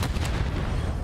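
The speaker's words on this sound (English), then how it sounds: "Plenty of explosions all over the place" Booming explosions rumble and crack in a Call of Duty League match, a dense burst of low blasts with sharper pops at the start, loud and continuous through the brief moment.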